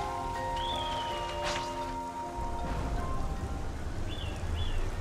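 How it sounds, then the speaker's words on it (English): Rain falling in Xenoblade Chronicles 3, a soft, steady hiss of rainfall that runs through the whole scene, with a few faint tonal game chirps over it and no voices. "Get the rain. Good bit of rain."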